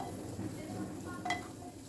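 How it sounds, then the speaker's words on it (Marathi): Onion sautés quietly in a pan for pea cutlets, a soft, steady sizzle with faint stirring scrapes and one brief utensil clink. "हा पण कांदा छान परतून घ्यायचा आहे"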